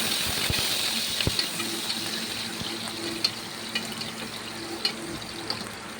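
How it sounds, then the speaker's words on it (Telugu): Onions and curry leaves fry in hot oil in a pan for sambar, giving a steady loud sizzle with occasional sharp clicks and scrapes from stirring. "అందులోకి కరివేపాకు వేసుకొని మనం కట్ చేసి పెట్టుకున్న ఆనియన్స్ వేసుకోవాలి."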